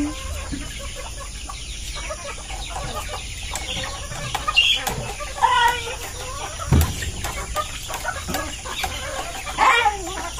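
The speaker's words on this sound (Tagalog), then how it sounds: "Nagpapakain sila ng mga manok doon." Chickens cluck and murmur during feeding at a farm, with scattered near and far calls over a busy outdoor background and occasional louder squawks.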